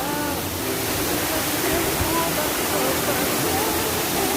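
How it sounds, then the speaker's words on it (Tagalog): Broadband rushing roar of a tall waterfall at Kabab Falls in Sitio Longgabi, Brgy. Wallayan, steady and dense throughout, with faint voices mixed in beneath the water. "Ayun yung falls na pupuntahan namin. Ang taas talaga niya."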